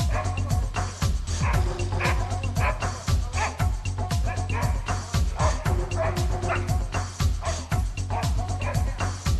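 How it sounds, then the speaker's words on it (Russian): Hunting dogs bay and bark continuously at a wild boar they are holding at bay somewhere in the Russian countryside, a dense, rapid chorus of barks and yips from several dogs with no pause. "Где-то там собаки держат кабана."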